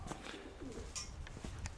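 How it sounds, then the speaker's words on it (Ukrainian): A feather-footed pigeon coos softly nearby in a few short, low murmuring notes, with light rustling and brief chirps around it. "А це голуб лохмоногий"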